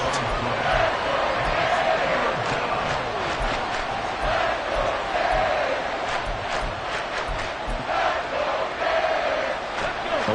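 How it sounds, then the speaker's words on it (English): A football stadium crowd roars and cheers continuously, a dense, loud wall of noise that holds steady for about ten seconds with no break. "this crowd doing their best to make a lot of racket"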